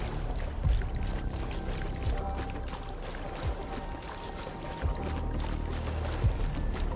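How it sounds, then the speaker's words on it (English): Water rushes through a large rift in the video game Endfield, a steady, fairly faint wash of flowing, splashing water with periodic low thuds, continuous throughout. "It's a lot of water."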